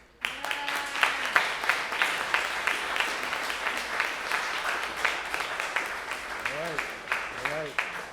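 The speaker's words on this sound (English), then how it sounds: "y'all give them a big round of applause as they do" A crowd at a city council meeting applauds steadily, a dense wash of clapping throughout, with a voice or two calling out over it.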